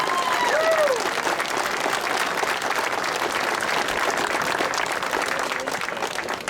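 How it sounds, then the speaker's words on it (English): Warm, sustained applause from a crowd at a speedway hall of fame ceremony, strongest at the start and slowly easing, with a brief whistle early on and faint voices under the clapping. "these two folks right here, Richard and Vanessa Jordan, deserve a great round of applause"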